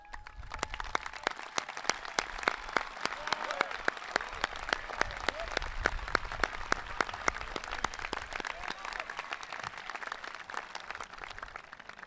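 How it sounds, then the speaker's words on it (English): A high school graduation audience applauds the staff members: dense, sustained clapping from a large crowd, steady and fairly close for the whole stretch. "Staff members, would you please stand so we can recognize you and applaud you for your efforts?"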